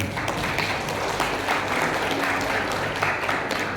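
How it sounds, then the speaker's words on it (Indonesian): Applause for Bapak Wahyudi at an Islamic jurisprudence lecture, a dense, even burst of clapping from the audience lasting throughout. "Tepuk tangan buat Bapak Wahyudi."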